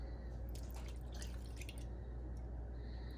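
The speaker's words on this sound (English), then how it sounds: "And let's add in our milk." Milk poured into cornbread batter for Southern fried hoe cakes, a quiet, steady liquid stream with soft dripping and squishing in the bowl over a low background hum.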